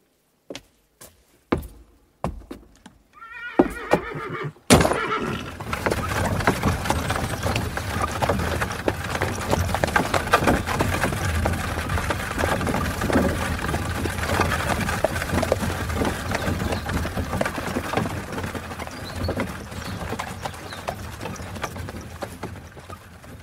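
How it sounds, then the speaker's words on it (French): After a few sharp knocks, the hooves of two post horses clip-clop steadily over the rumble of a carriage's rolling wheels, continuous and fairly close for a long stretch. "Voici votre voiture, Excellence, avec 2 solides chevaux de poste."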